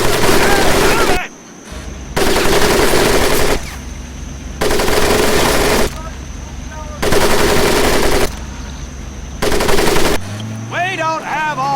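Long bursts of machine gun fire rake a mud pit during a training course in Medal of Honor: Pacific Assault, loud sustained rattling broken by short pauses, with a voice speaking briefly near the end.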